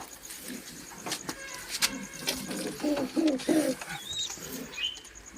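A short run of soft pigeon coos close by, followed by a couple of higher bird chirps over light background noise.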